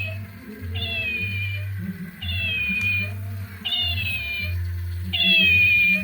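A toy cat doll gives four repeated electronic meows at a steady rhythm, each a bright wavering tone, while lunch is eaten nearby and a low hum sits under the sound.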